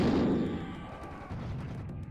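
A couple of heavy alternate-fire blasts aimed at a scorpion enemy in Serious Sam, a loud booming burst up front that decays into a rumbling tail with smaller pops following.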